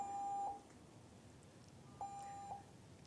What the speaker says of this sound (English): I can't talk while it's beeping.